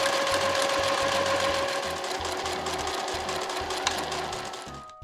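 A sewing machine stitches Marimekko fabric for a gathered skirt in a steady, fast, close mechanical whir with a hum underneath, running continuously and slowing to a stop at the end.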